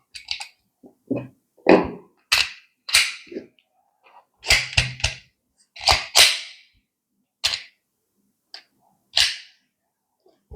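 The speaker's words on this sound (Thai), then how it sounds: "ใส่กระสุนดัมมี่นะครับ" Sharp metallic clicks and snaps as dummy rounds are pressed into a pistol magazine and the slide is cycled on a stainless steel RYG guide rod with a 13-pound spring, isolated loud clacks spaced out with silence between.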